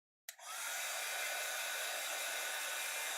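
Hair dryer switched on to dry watercolor paint, kicking in abruptly and then blowing at a steady, even roar close by, with no talking.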